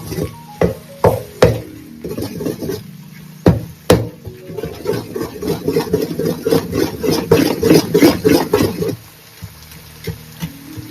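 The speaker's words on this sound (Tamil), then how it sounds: "நல்லா நடுவில் இந்த முட்டை வேகிற வரைக்கும் கொஞ்சம் கலந்து விட்டுனே இருங்க" Egg is stirred into noodles in a hot pan: sharp spatula taps strike the pan first, then a busy scraping and sizzling stretch follows before it quiets to a low hiss, heard close with no voices.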